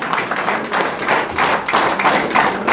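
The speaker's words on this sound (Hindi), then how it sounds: "जोरदार तालियों के साथ" A group at a political party event claps loudly and close by, the applause coming in rhythmic surges of bursts with dull thumping beneath.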